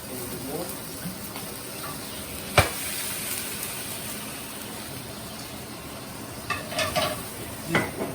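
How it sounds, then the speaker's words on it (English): Cognac boils off and sizzles in a pan for steak au poivre, a steady fizzing hiss throughout, with a sharp clack of the pan near the middle and faint clinks toward the end. "And let the alcohol boil off."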